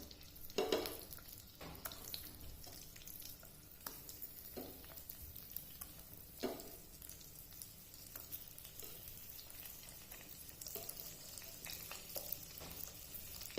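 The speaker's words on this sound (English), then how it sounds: "Be careful while frying the eggs" Eggs fry in hot oil, giving a continuous soft sizzle and crackle with a few louder spits and pops, heard close and alone without any talking.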